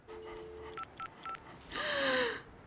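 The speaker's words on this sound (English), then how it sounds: "Dial this number." Touch-tone telephone dialing from the movie The Professional: a steady dial tone, then three short separate keypad beeps, followed by a louder burst of ringing tone. Close and clear, with no talking.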